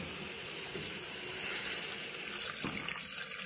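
Water pours from a tap into a cooking pot in a home kitchen, a steady close hiss and splash that runs unbroken throughout with a slight surge near the end, with no speech over it.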